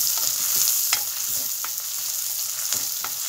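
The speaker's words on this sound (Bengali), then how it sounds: "দেখো শুটকিটারে আমি ভেজে নিই তেলের মধ্যে।" Dried fish (shutki) frying in hot oil, a dense continuous sizzle close by, broken by a few sharp crackles and spatters.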